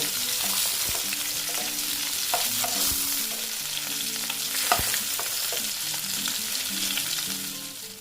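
Rohu fish pieces frying in oil in a pan, a close, steady hiss and crackle with occasional utensil knocks and low background tones, no voices.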